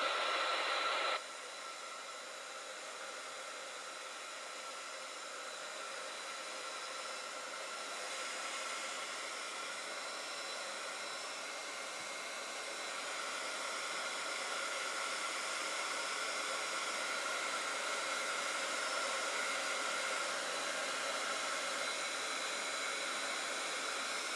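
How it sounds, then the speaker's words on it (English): A heat gun blows steadily on painted ornaments coated in clay-based chalk-style paint, a continuous airy roar holding at an even level throughout, close and unbroken, with no voices. "I'm gonna hit this with the heat gun and go ahead to the next step"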